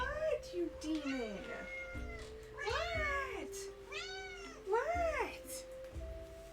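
A pet cat meows repeatedly in several rising and falling calls spread across the moment, close and fairly clear, with a person talking to her in between.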